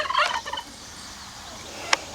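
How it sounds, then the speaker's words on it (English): Farm turkeys gobble in a quick burst of several close, rattling calls, then the sound drops to quiet outdoor ambience broken by one more brief sharp call. "the turkeys are going to be noisy"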